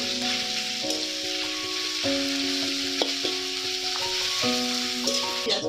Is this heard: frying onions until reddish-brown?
yes